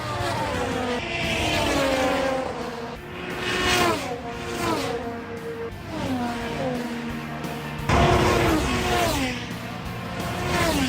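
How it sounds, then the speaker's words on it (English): IndyCar race cars passing at Indianapolis Motor Speedway, a series of loud high-revving engines sweeping by one after another, each pass falling in pitch as it goes, with a dense constant roar between them. "We also went to other parts of the track to get some other angles of the cars going by."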